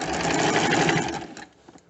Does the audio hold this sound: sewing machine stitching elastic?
yes